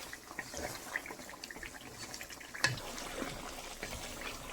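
Water pours steadily into a pot of browned lamb nihari, about two litres being added, a soft continuous splashing and trickle at moderate volume with no talking.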